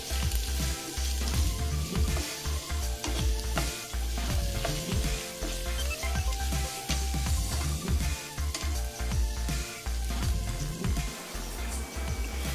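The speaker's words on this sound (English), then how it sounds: "Now mix it well around 5 minutes." Mutton roast with garam masala being stirred and fried in a pan: a constant close sizzle with repeated scraping and clinking strokes of the spoon, steady throughout.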